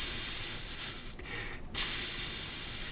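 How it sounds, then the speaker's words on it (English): Olive oil sprayed into a hot, sizzling pan in two squirts, each a loud, steady hiss separated by a brief pause. "grab the EVOO. Give it a couple squirts in there. Pan's nice and sizzly."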